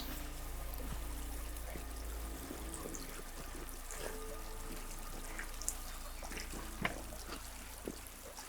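Water of a stream near a lake flows and trickles steadily, a soft continuous wash with a low rumble and occasional small splashes, no voices.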